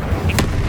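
Incendio fire spell cast in Hogwarts Legacy during a boss fight, a single sharp whooshing burst near the middle over a steady low game rumble, loud and brief.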